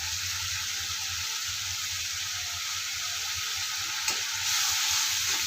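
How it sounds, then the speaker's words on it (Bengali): Spice masala with salt, turmeric and chilli powder frying with a little water in a pan, giving a loud, steady, continuous sizzle with brief stirring noises and a slight swell near the end. "ভালোভাবে মশলাটা কষিয়ে নেব"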